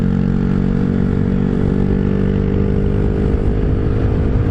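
A Honda Grom motorcycle runs flat out at top speed, a loud, steady engine drone mixed with heavy wind rush, close and unbroken throughout with no speech.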